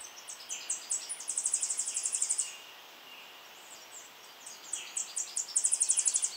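Tennessee warbler singing from a tree canopy: two bursts of high, rapid chips that speed up into a fast trill, clear and moderately close, with a quiet pause between songs and no talking.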